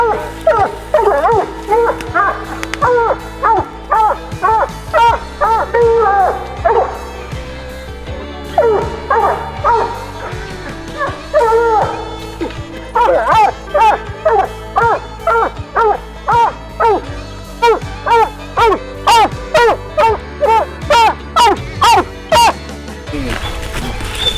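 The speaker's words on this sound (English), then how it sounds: "Which dog is this, Bill?" A hunting hound barks and whimpers close by in a steady run of sharp, repeated yips and bays that continue for the whole stretch.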